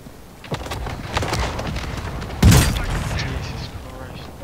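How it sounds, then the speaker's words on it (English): Mortar strikes exploding in an online multiplayer shooter game, rumbling booms with one heavy blast in the middle, mixed under excited team voice chat. "How many fucking mortar strikes?"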